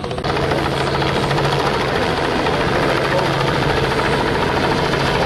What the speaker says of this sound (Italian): ecco l'elicottero che si porta in asse